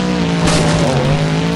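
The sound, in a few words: monster truck Boogie Van driving in monster truck show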